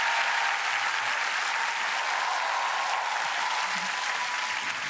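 A studio audience at a Korean music TV show applauds in a thick, continuous burst of clapping that stays loud and even throughout, with no voices on top.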